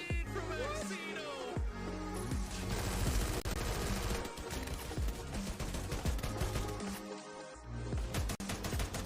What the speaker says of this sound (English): And look at the grenade from Maxino!